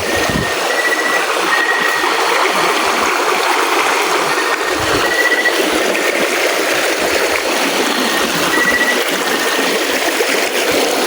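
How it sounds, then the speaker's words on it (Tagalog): Creek water rushes past steadily at a stream crossing, a loud, continuous broadband wash that fills the whole stretch with no voices over it. "Ito na pagdaan sapa."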